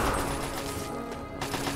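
Gunfire in the video game Fallout 3, a short burst of rapid overlapping shots, loud and dense, with a brief gap before more firing resumes.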